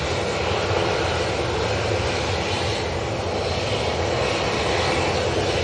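Hainan Airlines Airbus A330 jet, a loud, dense, unbroken engine roar sustained at close range with no speech.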